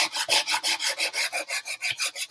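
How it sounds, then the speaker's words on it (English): Wood is hand sanded with a sanding block in quick, regular back-and-forth rasping strokes, about eight per second, close and crisp with no talking. "And then you're going to sand again."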